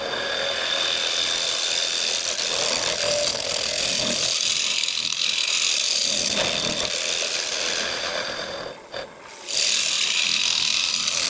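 A wooden bowl spinning on a lathe is smoothed with a steady close rasping, scraping rub that carries on continuously, briefly easing off near the end before resuming.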